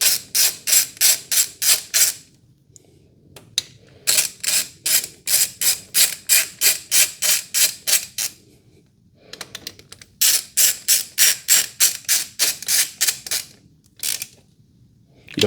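Ratchet tightening bolts on an aluminum housing, loud close rhythmic clicking in fast even runs, stopping briefly between bolts before each new run begins.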